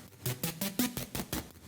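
A Serum synth patch with warp and sync modulation switched off pulses in a quick, even rhythm of buzzy, bright notes, steady and moderately loud with no talking.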